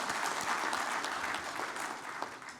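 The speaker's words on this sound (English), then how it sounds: "Ladies and gentlemen, another round of applause for Mr." Sustained audience applause at the opening ceremony of an aviation stakeholders convention, a steady wash of many hands clapping at moderate level throughout, with no voices over it.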